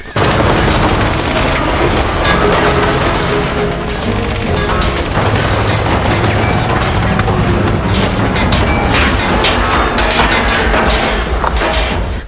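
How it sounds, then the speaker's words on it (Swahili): Dense, continuous gunfire from an action movie, with rapid machine-gun bursts, shots and crashing impacts layered over a loud mix with no breaks. "Risasi zikaendelea kupigwa mno"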